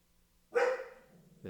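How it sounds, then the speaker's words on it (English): A single sharp dog bark rings out close by, followed by a fainter second yelp a moment later. "My dog's going to bark because the neighbor's dogs are barking."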